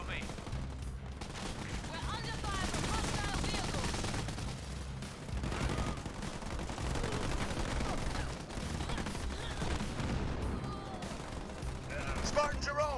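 Vehicles fire on a Spartan in a Halo Wars 2 match, dense continuous gunfire and bursts rattling without pause, loud and busy throughout with battle noise layered on top.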